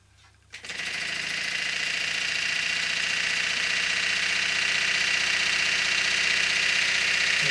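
Four-cylinder model engine running on air or steam starts up abruptly, then settles into a fast, even, continuous chuffing and clatter, steady and close.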